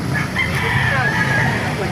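A rooster crows loudly and continuously, with other fowl clucking around it amid a busy, noisy outdoor market background in Baliuag, Bulacan.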